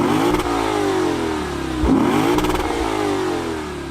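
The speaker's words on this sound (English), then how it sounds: "That is proper V8 sound." A Lexus V8 engine revs loudly and steadily, its deep throaty roar rising and falling through a couple of strong pulls with no talking over it.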